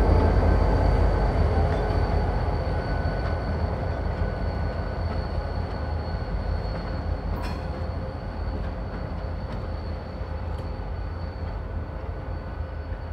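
A freight train rolls along the rails during local switching work, a steady loud rumble of wheels and cars with faint squeals and tonal hum, continuous throughout with no talk.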